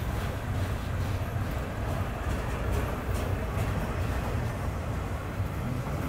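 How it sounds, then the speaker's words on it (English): A very long Florida East Coast freight train passes nearby as a steady, low rumbling roar that holds at an even level throughout, mixed with a little wind noise and no speech. "This is about one of the longest Florida East Coast trains I've ever seen"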